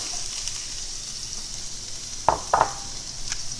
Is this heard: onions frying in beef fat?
yes